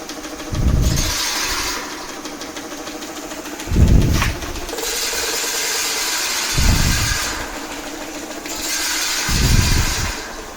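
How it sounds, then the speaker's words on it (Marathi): A rice threshing machine's engine runs steadily with a rattling drone, broken by four loud low thumps recurring every few seconds, close and continuous. "पूर्ण काळं भात आम्ही ना या मशीनवर साफ केलं"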